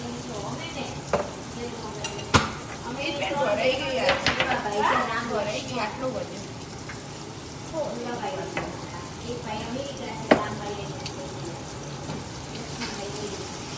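Potatoes sizzle and crackle in hot oil, a steady frying hiss with occasional stirring clatter as voices talk over it.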